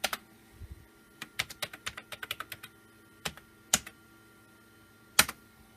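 Bursts of keyboard typing on a Windows XP computer, quick runs of clicky keystrokes with short pauses between, close and clear with no talking.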